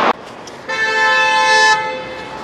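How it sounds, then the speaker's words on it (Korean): A car horn sounds at a traffic light just after the signal turns green, one sustained honk of about a second, fairly close and loud over light street noise. "신호 바뀌고 한 2초 안 갔다고 빵빵거리는 거 봐"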